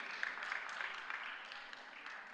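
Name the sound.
audience applause at a spelling bee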